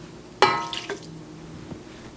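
Two tablespoons of water splash quickly into a bowl of creamed butter and sugar for cookie bars, one close, bright pour followed by a couple of softer drips and clinks.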